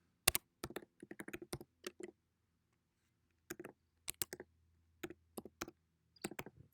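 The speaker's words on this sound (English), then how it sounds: "we're going to type that in again" Typing on a computer keyboard, heard as quiet, close, crisp key clicks in short irregular bursts separated by pauses.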